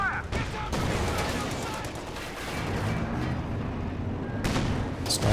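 Stuka rocket artillery firing in Company of Heroes 2, a dense barrage of booming launches and blasts rolling continuously with sharp cracks at the start and end, heavy battlefield din throughout.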